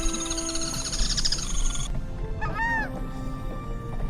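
Wild birds in the Iberá wetlands call over a busy chorus, with a honking, goose-like series of calls and sweeping whistled notes layered over steady background hum.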